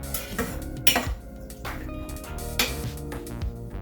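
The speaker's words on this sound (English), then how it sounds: "I'm just gonna stir everything with this wooden spoon." Wooden spoon stirring food in a metal pot, with repeated scraping clinks and knocks against the sides at an uneven rhythm, close and fairly clear with no talking.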